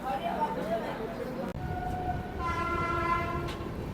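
The Puri–Howrah Shatabdi Express pulls out of Balasore station, wagons rumbling close with a horn sounding in steady tones partway through, a voice faintly present beneath.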